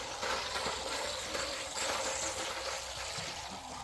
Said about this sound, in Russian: И наливаю им воду.